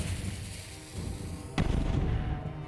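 A bomb goes off in the video game Rogue Heroes: Ruins of Tasos, a single sharp boom about halfway through that is followed by a rumbling tail, heard over a low game background with no talk.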